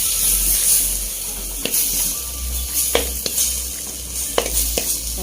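Hand-crushed tomatoes sautéing with ground rasam spice mix for thoothuvalai rasam, a soft steady sizzle in the pan broken by a few sharp clicks and scrapes of stirring.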